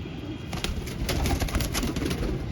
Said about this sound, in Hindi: ये बड़े पुराने कबूतर हैं हमारे पास, बगले कबूतर हम इनको कहते हैं।